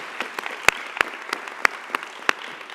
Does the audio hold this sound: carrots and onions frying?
no